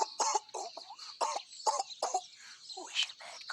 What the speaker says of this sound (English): Oh, it's a bad cough.